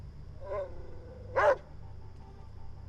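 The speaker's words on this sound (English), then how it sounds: "That growl, though, scared the crap out of me." A dog in the video game Thief Simulator 2 gives a short, sharp growling bark near the middle, after a softer vocal sound a moment earlier, over a low background hum.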